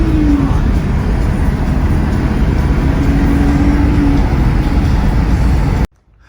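A car accelerates hard over bumps, giving a loud, steady rumble of engine and road noise from inside that runs for several seconds, then cuts off abruptly.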